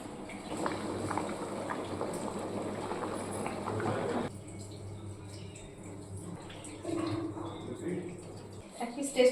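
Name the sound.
thin mutton curry with potatoes boiling in a pot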